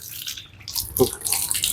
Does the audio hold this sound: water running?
yes